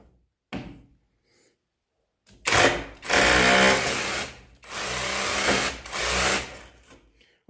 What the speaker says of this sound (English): Hammer drilling.